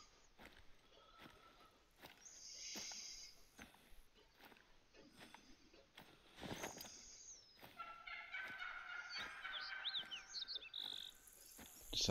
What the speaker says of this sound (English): Sounds like the turkeys are shouting.